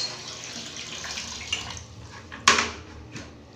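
Water is poured over a dirty bathroom floor and fixtures during cleaning, a steady rushing wash with a sharp splash burst near the end, with no talk.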